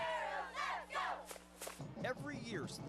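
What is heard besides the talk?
high school students chanting the 'Go Arabs' cheer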